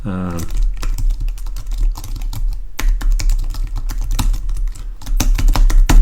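Rapid keyboard clicks patter unevenly on a computer keyboard, with a voice speaking briefly at the very start.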